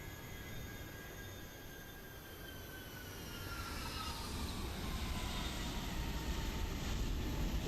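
A Qantas airliner passes in Microsoft Flight Simulator: a steady roar swells louder and nearer, while high whining tones slide steadily downward as it goes by. No one speaks.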